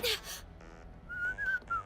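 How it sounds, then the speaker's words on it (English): Someone whistles a short, wandering little tune, soft and close, after a brief breathy noise at the start. "When she's confronted about it, she just decides to nonchalantly whistle."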